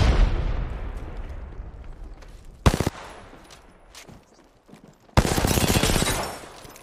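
Gunfire in the Apex Legends shooter: a short loud burst of rapid shots, a quieter stretch with scattered sounds, then a longer sustained volley close by, with no talk.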